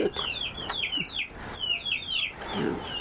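Several chickens and a rooster cluck in a farmyard flock, a busy overlapping series of short, rising clucks close by, with a couple of low thumps or voices briefly underneath.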